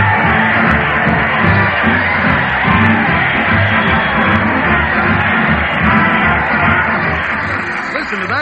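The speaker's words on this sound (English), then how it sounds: "Listen to that crowd cheer as Fred Allen leads the parade to the old To" A large crowd cheers and yells at a parade heading to a town hall, with a band playing along, a loud, continuous roar of shouts and whoops that stays steady throughout.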